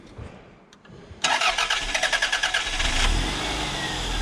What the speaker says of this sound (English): And there she goes. And she's running.